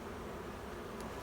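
Honey bees humming at an open spring hive during cleanup, a low steady drone that is faint and continuous, with no talking.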